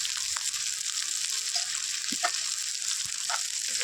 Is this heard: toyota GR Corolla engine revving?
no